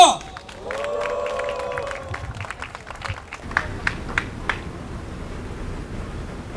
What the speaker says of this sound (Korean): 여러분들의 힘찬 박수 함성으로 시작하겠습니다